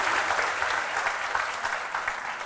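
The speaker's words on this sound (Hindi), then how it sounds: "बस जोर से ताली बजाओ भाई।" An audience at a Hindi-medium talk with Dr Vikas Divyakirti greets a UPSC 2023 topper with a brief burst of loud, dense clapping that continues without a break.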